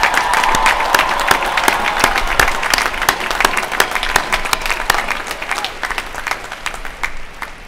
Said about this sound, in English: could we please give one more round of applause to these students and those who helped them